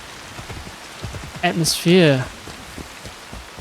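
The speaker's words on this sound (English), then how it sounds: "I feel like the rain is scripted." Steady rain pours in a video game area, a continuous hiss of falling drops in the background while a voice talks over it.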